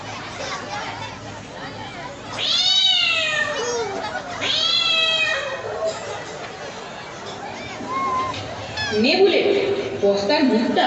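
A cat meows in a Bengali drama scene, several drawn-out rising and falling cries up close, with people talking and chattering around it.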